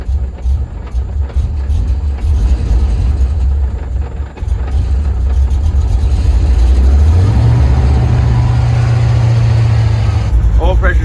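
Car engine idling low at about 800 rpm, with oil pressure sagging as it heats up: a steady, loud low rumble runs continuously and close, with a slight pitch shift partway through.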